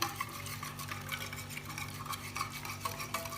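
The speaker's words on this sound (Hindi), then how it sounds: "मसाला हमने अच्छी तरह से इसको ब्लेंड कर आपस में मिक्स कर लिया है" Spice marinade for steamed chicken roast, tinted with food colour, stirred in a bowl, giving a steady run of close scraping and clinking utensil-on-bowl strokes with no talking.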